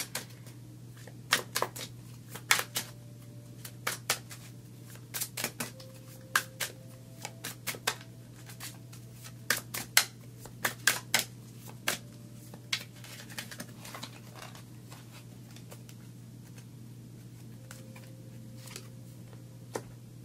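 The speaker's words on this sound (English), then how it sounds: "we're going to pick a few more cards for your future card here" Tarot cards are handled and shuffled close by, producing soft scattered taps and quick riffling clicks in irregular clusters over a steady low electrical hum, with no talking.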